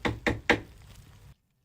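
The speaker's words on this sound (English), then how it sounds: "Knock at the door." Three firm knocks on a door in a quick even rhythm, close and hollow-sounding, followed by a brief quiet tail before silence.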